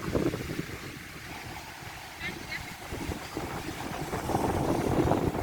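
Strong wind rushes across the microphone on a boat at sea off South Pattaya, a continuous loud roar with a low engine-like rumble that swells toward the end, while someone talks faintly underneath.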